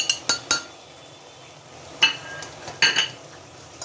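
Spoonfuls of ground red chilli, turmeric and black pepper tipped into a cooking pot for dal gosht with lauki, heard as sharp metallic clinks of a spoon against the pot rim, three quick taps, a pause, then a few more.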